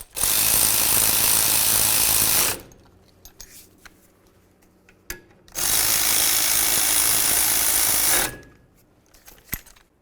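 A power tool driving in brake caliper slider bolts on a 2009-2018 Ram 1500 during a rear brake job, two loud, close bursts of rapid hammering rattle lasting a couple of seconds each, separated by quieter clinks and handling noises.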